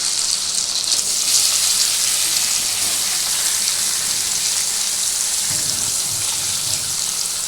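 Paneer and capsicum sizzle in hot ghee in a pan, making a steady, bright, rain-like hiss that runs throughout, with a few soft stirring sounds near the end.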